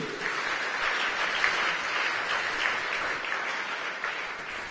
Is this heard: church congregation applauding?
yes